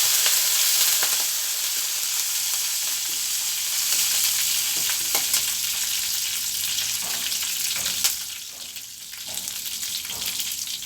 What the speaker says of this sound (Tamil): இப்போ இந்த டைமில் நம்ம கருவேப்பிலையை சேர்த்துக்கிடுவோம்.